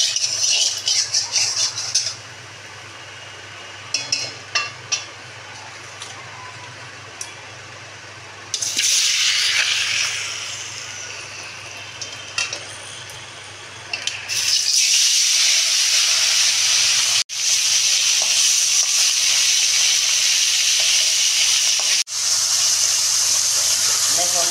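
Amudi anchovies fry in hot oil in a wok, a loud sizzling hiss that swells in bursts and then holds steady and strong, with a voice talking faintly beneath.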